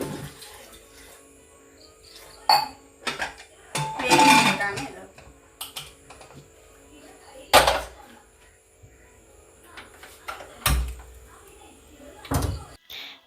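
Cooking pots and vessels being washed in a home kitchen during evening cooking, with scattered clanks and knocks of metal pans, a few louder bangs, and some running-water rustle between quieter gaps, close by.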